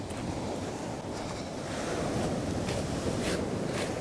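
Surf breaks on the shore at Shoreham under a big sea with the tide coming in, a steady loud wash of waves mixed with wind buffeting the microphone, no voices.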